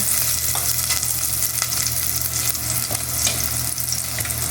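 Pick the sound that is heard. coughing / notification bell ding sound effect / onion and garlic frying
onion and garlic frying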